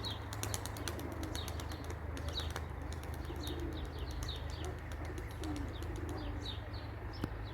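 Pigeons coo softly in a steady outdoor ambience, with occasional bursts of wing flapping and light chirps over a low background hum.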